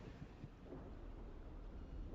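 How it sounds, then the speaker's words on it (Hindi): Thunder and stormy wind rumble through a horror video game scene set around a yellow house, a steady low roar with broad noisy texture that holds throughout without clear individual claps. "इतना अच्छा माहौल था, एकदम बिजली कड़कने लग गई"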